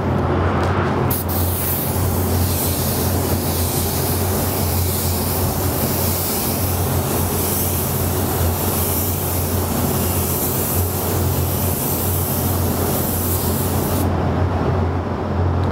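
A spray gun lays down a metallic gold base coat in one long continuous hiss, loud and close, running almost unbroken for about thirteen seconds before cutting off, no voices.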